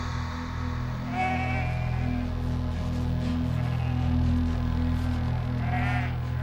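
Sheep bleating on a New Zealand mountain hillside, two or three wavering calls spaced a few seconds apart over a steady low drone, moderately near and clear.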